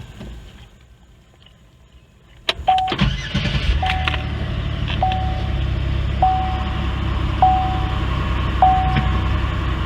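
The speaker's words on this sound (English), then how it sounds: "let's go ahead and get the key and start the car." A car with a bad knock sensor is started: after a quiet stretch, the engine cranks and catches with a sharp burst, then settles into a steady idle while a regular chime beeps repeatedly over it.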